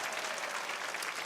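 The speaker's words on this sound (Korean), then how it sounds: "우리 다시 한번 박수 할까요?" A church congregation claps together in a steady, dense round of applause, moderately loud and without pause, with no voices standing out.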